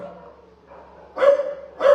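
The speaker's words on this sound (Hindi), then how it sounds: "इसलिए मेरा कुत्ता में भौंक रहा है मेरे ऊपर." Pet dog barking at its owner indoors, two sharp, close barks following a softer lead-in, with a voice faintly present.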